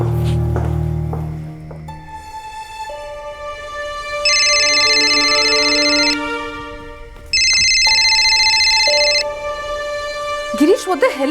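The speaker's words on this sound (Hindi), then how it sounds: "गिरीश फोन क्यों नहीं उठा रहा है?" A telephone ringtone rings in repeated bursts of an electronic melody, with pauses between rings and no one answering, in a tense crime drama scene; a brief low rumble opens it and a short noise closes it.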